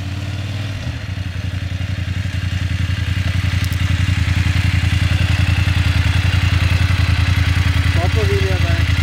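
A BMW F900 GSA motorcycle engine runs loud and steady at close range during a wheelie, a rising throbbing drone that holds high, with people talking over it.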